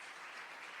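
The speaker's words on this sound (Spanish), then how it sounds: "Fuerte ese aplauso al Señor." Church congregation applauding during a worship service, a dense, steady wash of many hands clapping at moderate distance, brief and without audible speech.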